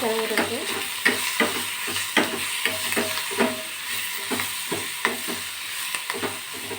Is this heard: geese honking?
no